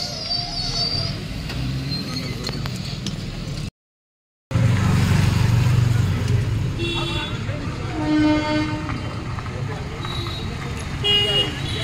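A train passes near a railway station, with a horn-like toot and a steady rumble running under ongoing conversation; a brief dropout cuts the sound midway, then voices and train noise resume.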